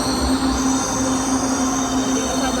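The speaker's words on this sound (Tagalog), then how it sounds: "Nariyan na po yung bagon." An LRT train rolls into a station, with a steady loud roar of rail noise and a sustained wheel squeal running throughout, no talking.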